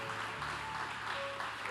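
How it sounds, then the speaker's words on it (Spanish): Church congregation clapping during a Spanish-language sermon, a steady wash of applause under a faint sustained tone, moderately distant and fairly even throughout. "Dale ese fuerte aplauso al rey"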